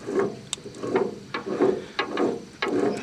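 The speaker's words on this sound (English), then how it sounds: "I believe it's got a rough bearing somewhere." A gearbox shaft from a Do-All band saw with a rough bearing is turned by hand, giving a gritty, ratcheting grind in slow repeating rotations, with sharp clicks marking each cycle at close range.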